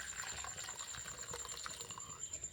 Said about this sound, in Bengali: জামবাটির মধ্যে তো গরম জলটা ঢেলে নিলাম